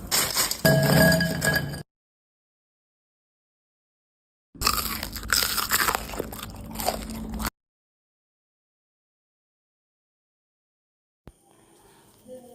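Crunchy French fries made in an air fryer being bitten and chewed close up, in two loud bursts separated by silence, with a faint click near the end.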